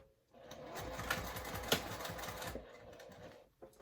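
A sewing machine starts up and stitches in a steady, close mechanical rattle for about two seconds, then winds down and stops, followed by a brief click.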